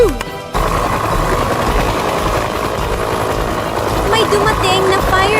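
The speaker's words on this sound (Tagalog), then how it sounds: "May dumating na fire rescue helicopter." A fire rescue helicopter arrives in a children's cartoon: a loud, steady rotor and engine drone holds throughout, with a voice and music-like tones rising near the end.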